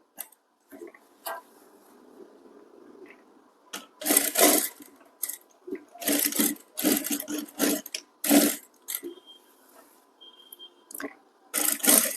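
A sewing machine tacks thread piping onto a blouse in several short, loud bursts of rapid stitching, separated by quiet pauses.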